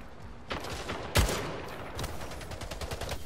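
Rapid gunfire in the video game Splitgate, bursts of automatic shots with one sharp, loud blast partway through and a quick rattling stream toward the end.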